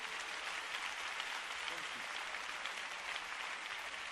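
A church congregation gives applause to the Lord, a faint, steady, dense patter of many hands clapping together, sounding distant and continuous with no clear voice on top.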